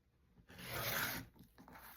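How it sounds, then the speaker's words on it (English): A blade slices through a paper-pieced fabric block along a ruler in one close, scraping cut lasting under a second, followed by faint rustling handling sounds. "So I'm just going to trim that piece off."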